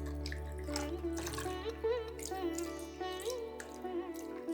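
About two litres of water is poured over fresh paneer to rinse it, giving a soft running, splashing trickle under a steady tonal background hum.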